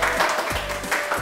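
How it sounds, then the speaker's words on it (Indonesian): Scattered clapping from a crowd, rising and falling in short bursts amid a noisy room. "Tepuk tangan yang sangat meriah, kurang meriah lagi."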